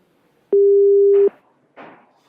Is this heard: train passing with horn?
no